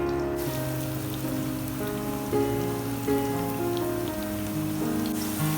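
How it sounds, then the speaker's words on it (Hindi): Small pieces of onion fry in hot oil in a pan. A steady, close sizzle and crackle continues for several seconds with no talking. "अब हम इसमें डालेंगे प्याज। छोटा सा हमने प्याज लिया है, ये डाल देंगे और इसको फ्राई करेंगे।"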